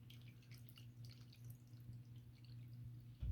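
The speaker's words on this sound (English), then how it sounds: "I think you like your new water fountain" A cat water fountain runs quietly, with a soft steady hum beneath a light, continuous trickle and patter of dripping water, heard close and faint with no talking.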